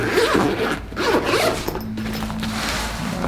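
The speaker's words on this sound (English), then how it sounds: "Zipper." Zipper being pulled open on the carry bag of an Enertwist impact driver, a close, steady rasping run of several strokes with a short pause midway.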